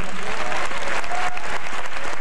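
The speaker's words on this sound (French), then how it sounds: "Je vous invite à applaudir encore une autre fois les étudiants de la 37e promotion." Audience applause for the graduating students of the 37th class at a 1995 ring ceremony, a dense, steady wash of clapping from a large crowd filling the whole moment without voices.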